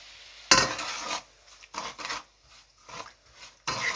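A spoon mixes sugar into a chicken fruit chaat in a bowl, giving several close scraping and clinking strokes in uneven bursts with short pauses between them. No one speaks.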